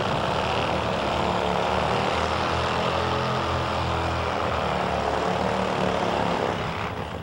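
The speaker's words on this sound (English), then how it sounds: "Let's listen in for the burnout from Kevin Boyer on his Top Fuel ride." A Top Fuel drag bike does a burnout at an NHRA drag race at Budweiser Motorsports Park, a loud, steady engine roar that holds for several seconds with no break or talking.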